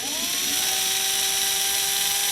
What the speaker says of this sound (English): Now we're going to ream that hole.